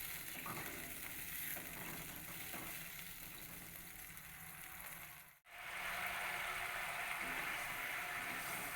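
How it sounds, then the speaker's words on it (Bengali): Masala paneer gravy simmers in a pan, giving a steady close hiss and crackle of bubbling liquid, briefly interrupted by a short cut before continuing. "এবারে ঝোলটাকে ফুটে ওঠার অপেক্ষা"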